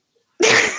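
A single sharp sneeze bursts out close and loud after a brief silence, a short explosive blast that trails off quickly.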